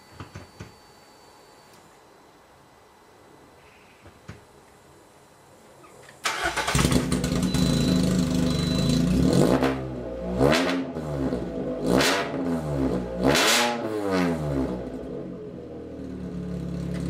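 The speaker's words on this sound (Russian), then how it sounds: "Вот так работает машина без выхлопа." A Lada Kalina 2 Sport with no exhaust cranks and starts after a quiet stretch, then revs loudly in several sharp rising and falling bursts before settling to a rough, raw idle.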